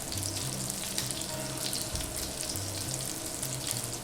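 German Frikadellen flat meatballs fry in plenty of oil in a pan, giving a steady, loud, close sizzle and crackle that holds unbroken throughout with no talking.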